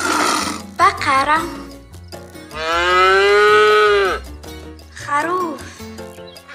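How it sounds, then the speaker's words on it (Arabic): A cow moos, with a short call, a long drawn-out central bellow, and a final lowing call, loud and close with nothing else around it. "بقرة،"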